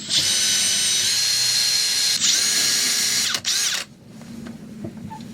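Loud, close power drill whirring steadily on a rocking boat at sea, stuttering briefly, then cutting off, leaving a quieter background with a few small knocks.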